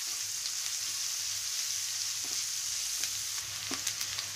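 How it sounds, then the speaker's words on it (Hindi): Chopped onion with green chili, mustard seeds and curry leaves frying in a pan for beetroot sabzi: a steady, close sizzle with a few light pops and stirring sounds toward the end. "कटा हुआ प्याज डालेंगे, कटा हुआ करी पत्ता डालेंगे, प्याज को हल्का ब्राउन होने तक भूनेंगे।"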